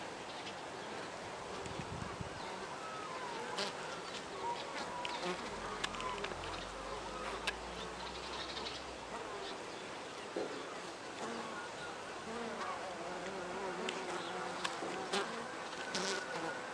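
Honeybees buzzing steadily around a hive frame where a green-marked queen is being shown, a dense close swarm hum that fills the whole stretch with no talking.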